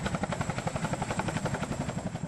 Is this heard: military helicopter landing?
yes